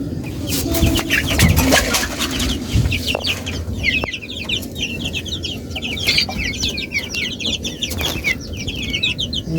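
Farm chickens, Tiger hens and broilers in a coop, cluck steadily while a dense stream of high, quick chirps runs over the top throughout, close and busy, with no talk.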